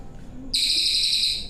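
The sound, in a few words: murai batu (white-rumped shama) bird singing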